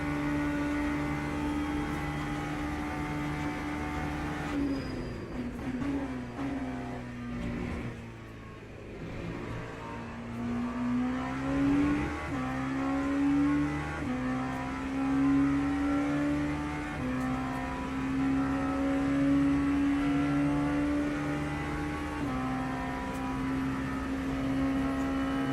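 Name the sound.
LMP2 race car engine in Le Mans Ultimate video game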